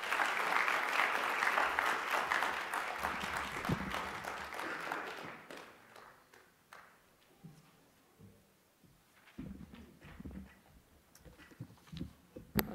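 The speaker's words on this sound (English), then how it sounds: "A big, big round of applause to Zaina Alwi, please." Conference audience breaks into loud, dense applause for a leadership event introduction, sustained for several seconds before thinning into scattered claps and fading toward the end.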